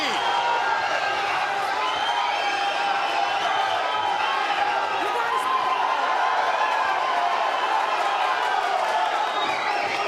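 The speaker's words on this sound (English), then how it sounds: "Crowd in a fever pitch in here." Boxing arena crowd roaring at a fever pitch during a Leo vs. Polanco bout, a steady dense wall of cheering and whoops that holds loud for the full stretch with no break.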